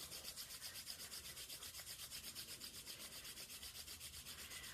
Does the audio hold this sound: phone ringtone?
no